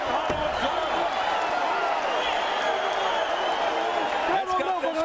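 Loud, dense crowd noise from a boxing match in Hollywood, Florida fills the scene without a break, with cheering, clapping and scattered shouts, and a commentator's voice running on top throughout.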